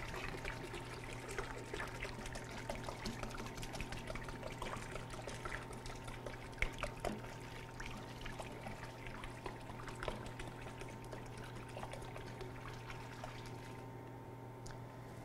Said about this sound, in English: and then we will pour the soap into the tank.